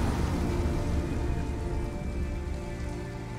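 Steady rain falls throughout in the video game Detroit: Become Human, a dense, even hiss of drops pattering on surfaces with a low rumbling wash beneath, continuous and fairly close, with no voices.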